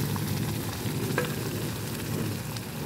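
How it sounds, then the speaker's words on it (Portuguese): A ladle scoops cooked beans out of a deep pot and into another pot in a home kitchen, giving a steady wet scraping and sloshing texture that continues close and fairly loud without pause. "é melhor pra gente pegar o feijão lá dentro da panela"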